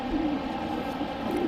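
Racing pigeons coo steadily in a loft, a soft low continuous murmur of several birds close by, with no talk.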